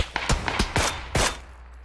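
Gunfire in PUBG: a rapid burst of about six loud, sharp shots over under two seconds, unevenly spaced, with no voices.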